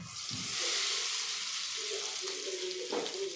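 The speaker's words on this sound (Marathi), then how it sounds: "आता हा तडका आपण यावर घालूया" Hot tadka tempering for Maharashtrian-style dal hisses and sizzles steadily as it hits the lentils, a broad, close frying crackle with faint stirring knocks.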